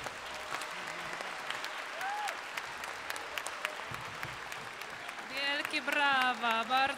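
An audience at a final concert of a children's and youth orchestra program in Katowice claps steadily throughout, with an announcer speaking over the applause and music rising near the end.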